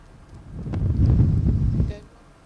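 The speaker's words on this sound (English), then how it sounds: "It's a very windy morning out here in the desert in Sharm el-Sheikh." Wind gusting across a microphone on a desert morning in Sharm el-Sheikh, a muffled low rumble that swells for about a second and a half, then drops away abruptly.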